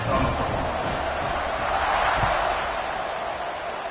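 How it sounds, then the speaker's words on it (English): Football stadium crowd at a college game roaring steadily just before kickoff, a dense, continuous wall of cheering and noise that swells slightly midway and holds loud throughout. "this crowd now ready to get behind them"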